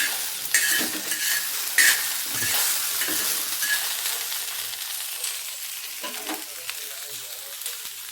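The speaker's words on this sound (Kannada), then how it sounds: "ಅದೇ ಹಂಚಿನ ಮೇಲೆ ಬೆಂಡೆಕಾಯಿ ಫ್ರೈ ಮಾಡ್ಕೊಂಡು ಹಾಕೊತಿದ್ದೀನಿ" Okra frying on a flat iron griddle hisses in a steady, close sizzle, with a few brief scraping stirs and light clinks of a utensil against the pan and no talk.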